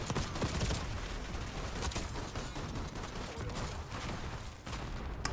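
Rapid, dense gunfire from a sniper shotgun in Call of Duty: Black Ops 6, loud and continuous, with shots blending into a steady burst of game combat noise.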